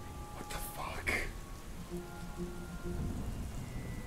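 Soft, continuous rain with a low rumbling undertone, quiet and steady, with a few faint tonal sounds and brief higher-pitched noises near the start.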